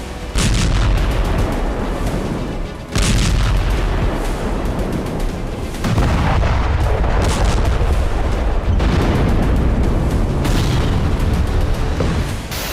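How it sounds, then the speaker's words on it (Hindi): Russian multiple-launch rocket strikes explode on an eastern Ukrainian frontline at night. Heavy, loud booms arrive every few seconds over a constant rumbling roar, with about five distinct blasts in quick succession. "हर घंटे हजारों किलो बारूद बरसाया जा रहा है।"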